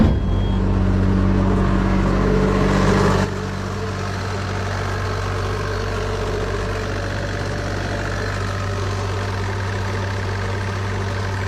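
A car engine, just started, settles into a steady idle during a check for an engine oil leak at a seal, its low rumble slightly louder for the first three seconds, then continuing evenly and close by without talk.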